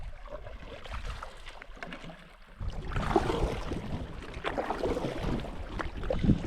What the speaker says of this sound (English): We're currently paddling out to an island to see if we can camp on it.